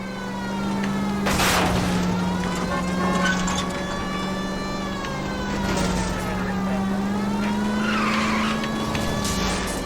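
Car chase in the video game L.A. Noire, a loud, continuous engine drone that rises and falls in pitch, with repeated screeching tire skids and bursts of crashing noise layered over it.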